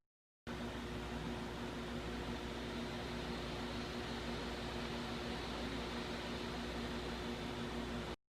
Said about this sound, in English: the noise the laptop's fans produce when it's idle or handling low-level applications